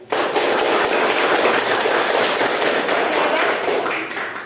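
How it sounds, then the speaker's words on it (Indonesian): A classroom audience claps together after a student group's presentation, a dense, continuous burst of applause that stays loud for several seconds and then tapers slightly at the end. "Tepuk tangan."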